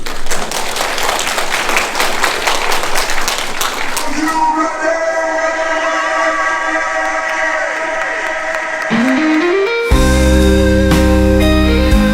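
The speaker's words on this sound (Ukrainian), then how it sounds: "я безумно хочу поблагодарить аплодисментами Риксос" A hotel audience applauds and cheers for the Rixos during a family workshop event, dense crowd clapping for several seconds before giving way to sustained music tones.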